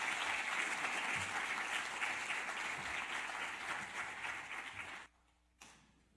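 Audience applause fills a seminar room in a welcome for speaker Jim Saiers, loud and steady for about five seconds before cutting off abruptly, followed by a brief faint burst.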